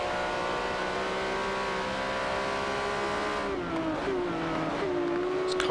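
Porsche Cayman GT4 Cup race cars at full throttle around Watkins Glen, a steady, loud, high-pitched engine wail holding close, then pitch shifts and dips as the cars brake and change gear through a corner.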